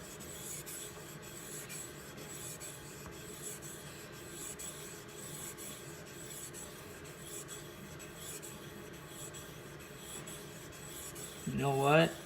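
Bark River Santos A2 knife with a convex edge being sharpened, a steady soft rubbing and stropping texture that continues evenly throughout, close but quiet.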